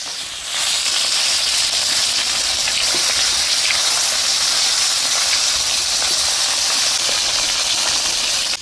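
Tilapia fish fry in hot oil, a dense, loud, continuous hiss and sizzle that holds steady throughout with no voices.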